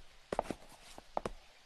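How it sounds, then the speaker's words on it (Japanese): Footsteps sound on a floor just before someone enters a bar on a rainy night in a 1999 anime, a few uneven soft steps, fairly quiet and close, with no talk over them. "あの足音。"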